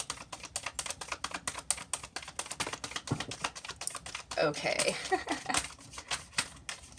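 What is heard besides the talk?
shuffling tarot cards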